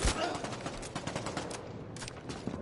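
Rapid gunfire in a shooter video game, a shaky weapon rattling off dense bursts that run nearly continuously, with a fresh burst near the end, fairly quiet overall.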